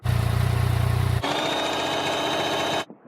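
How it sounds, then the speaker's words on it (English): A Suzuki SV650 motorcycle with its stock exhaust idles close by, starting with a deep, pulsing burble before the tone shifts to a steadier, brighter hum that runs on briefly and then stops abruptly. "This is the original exhaust."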